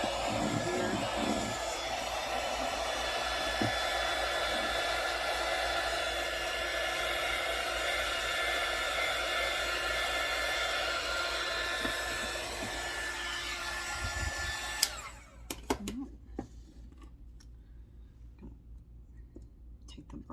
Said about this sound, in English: we're going to just go ahead and run the dryer on it. Make sure it's completely dry.